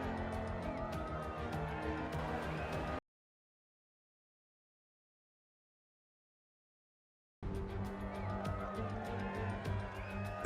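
Dense, roaring Formula 1 car engines from the F1 2020 video game, with a busy mechanical buzz, loud and continuous, cutting out to silence for several seconds before resuming just as loud.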